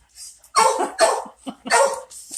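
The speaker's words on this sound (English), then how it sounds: "look at all these dogs" Several dogs at a senior dog rescue bark in loud, close bursts, about four sharp volleys in quick succession with short gaps, some higher yips mixed in.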